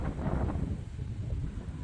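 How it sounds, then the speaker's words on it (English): Wind buffets the microphone in an open hay field on a sheep farm, a steady low rumbling roar with gusty swells that lasts the whole moment, no voices over it. "I'll go into a place where there's less wind so there's no waft."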